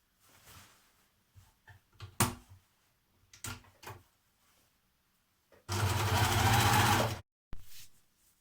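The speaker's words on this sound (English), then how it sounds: "you can just use a zigzag stitch on your standard machine" A standard home sewing machine zigzag-stitches elastic onto a thrifted dress's waist. After some quiet handling knocks, the motor whirs in one loud, steady run of about a second and a half, followed by a brief second burst.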